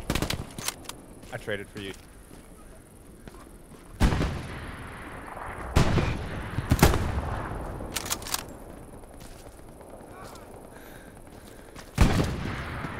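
Gunfire in the Hell Let Loose World War II shooter: sharp shots and heavy bangs crack out at intervals, some close and loud, with lighter distant fire between them while voices talk over the battle.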